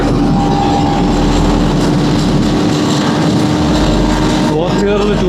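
A vehicle cruises in 4th gear on a highway, its engine drone blending with heavy road and wind noise in one loud, unbroken roar that holds steady throughout.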